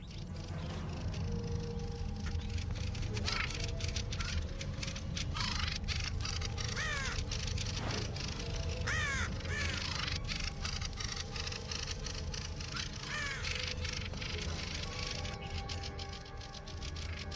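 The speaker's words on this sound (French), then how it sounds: "Étourdi par la contre-attaque, le corbeau se retire." A crow caws repeatedly while defending birds mob and attack it, harsh calls recurring over a steady background with other bird sounds mixed in.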